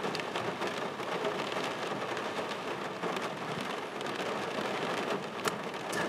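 Steady rain falling in Britain, a dense, even hiss of drops pattering on surfaces that continues throughout at moderate loudness, with no voices.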